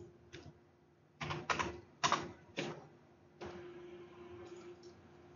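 A few keystrokes are typed on a computer keyboard to enter an answer, giving quiet isolated clicks and a short cluster of taps, close by with no talking.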